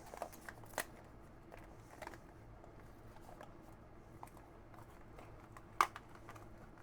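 Soft papery crackles and light rustles as a paper skeleton cutout is carefully peeled up for a Halloween craft album, faint and close, with one sharper tick near the end.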